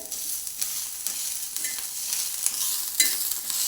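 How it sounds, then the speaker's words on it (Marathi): Garlic and green chillies sautéing in oil, a close continuous crackling sizzle with occasional stirring clatter, fairly even in loudness throughout. "लसूण आपण मिरचीमध्ये चांगला परतून घेऊया"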